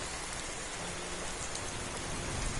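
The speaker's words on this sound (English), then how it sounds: "Sure is raining outside a lot." Rain pours down in Skyrim near the town of Falkreath, a dense, even hiss of drops that holds steady and fairly loud throughout with no voices.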